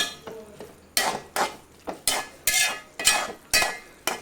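Spices being stirred in a pan for tomato curry, with a spoon scraping and clinking against the metal in a steady rhythm of about eight close, loud strokes, with no talking.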